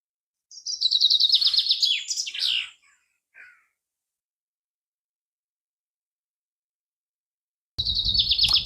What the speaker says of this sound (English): Just me and the birds,